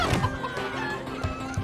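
Chickens in the Minecraft Story Mode video game cluck in short bursts near the start and again near the end, heard over game music.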